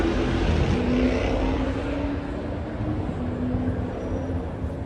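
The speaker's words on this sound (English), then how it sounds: "loud car goes by." A loud car passes on a city street in Brooklyn or Manhattan on a Saturday night, a steady engine rumble filling the whole clip over busy urban background noise.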